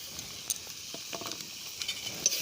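Spice masala sizzles faintly in a pan while being stirred, soft frying hiss with scattered scraping taps of a spoon.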